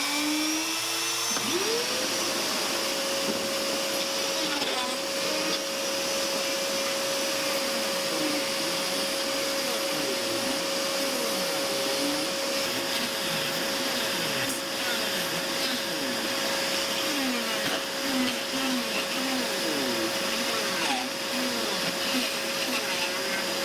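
A shop vacuum pulls air through a hose pushed into a down draft table, a loud, steady close-range whine and rush that rises as the motor spins up, then holds for the full length.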